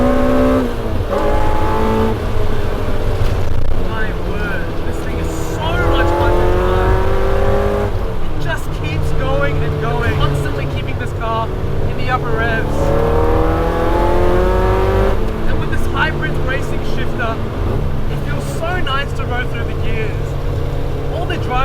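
A Honda CRX with a swapped K24 engine revs hard and accelerates through repeated rising pulls, its engine tone climbing and dropping between gears. Steady road and wind noise runs underneath, and someone talks over it.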